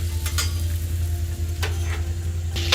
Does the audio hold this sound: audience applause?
no